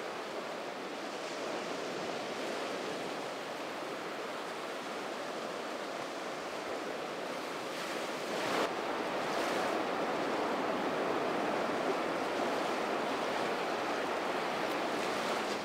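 Sea waves at a coastal village in southern Mexico, a continuous broadband roar of surf washing in, swelling louder past the midpoint, with no voices.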